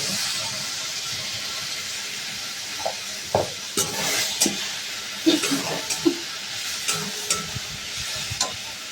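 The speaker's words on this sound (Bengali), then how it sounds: "ঢেঁড়সটা ভাজা হয়ে গেছে, এখন আমি এর মধ্যে বেটে রাখা সর্ষেটা দিয়ে" Okra fries in a pan as mustard paste is added and stirred in. A steady close hiss of sizzling runs throughout, broken by irregular scraping and clattering strokes of the spatula, with no talk.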